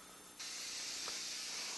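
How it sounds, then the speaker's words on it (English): Olive oil cooking spray hisses steadily onto a hot skillet, one continuous close spray starting abruptly and lasting over a second. "I'm spraying it with an olive oil spray"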